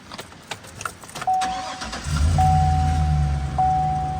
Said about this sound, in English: Let's crank this truck again.